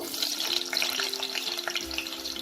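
A bay leaf and white cumin seeds fry in hot oil, making a continuous light crackling sizzle with small pops over a low steady hum.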